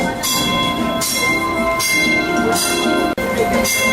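A modern tram runs through the streets of Oranjestad, Aruba, giving a loud, steady rolling rumble with metallic ringing overtones and a brief dip near the end, heard close by with no talk.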